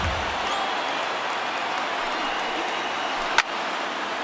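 A stadium crowd of over 39,000 in MLB The Show 19 roars in a dense, continuous wash of cheering and applause, broken near the end by one sharp crack.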